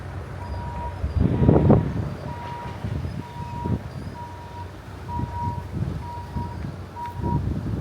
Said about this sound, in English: The annoying beeping.